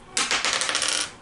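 Dice clatter and rattle for about a second in a close, busy burst of small hard impacts, rolled for damage during a tabletop game of Shadows of Brimstone, with no talking.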